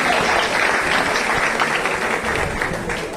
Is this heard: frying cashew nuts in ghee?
no